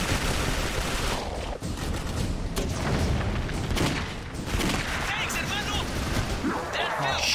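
A missile explodes amid heavy gunfire in the first-person shooter Clive Barker's Jericho, with loud booms and rattling shots crowding a dense, continuous battle din.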